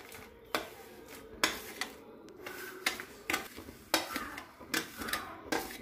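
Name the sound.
semolina stirred into boiling water in a pan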